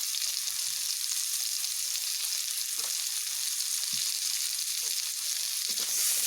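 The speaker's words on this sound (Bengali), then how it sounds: "নুন হলুদগুলোকে ভালোভাবে মিশিয়ে এইভাবে আলুগুলোকে একটু ভেজে নেব" Potatoes frying in a pan with salt and turmeric give a steady, close hiss of sizzling oil, with a few soft scrapes as they are stirred.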